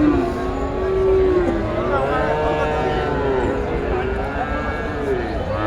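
Friesian heifers on a farm moo in long, drawn-out calls that rise and fall, loud and close, overlapping one another against a busy background.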